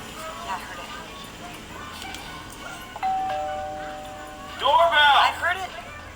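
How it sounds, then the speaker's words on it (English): A doorbell rings with a clear two-tone chime midway through, followed by a louder ringing burst shortly after, while people talk nearby before and during the chimes. "Doorbell!"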